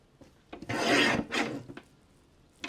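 Paper trimmer slicing through 12x12 scrapbook paper, making two close rasping strokes of about half a second each, followed by a faint scrape and the start of another pass.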